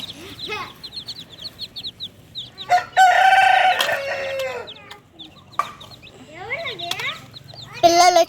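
A hen and her small chicks are fed grain in the morning. Close clucking and high peeping chirps come in scattered bursts, with a few louder squawks.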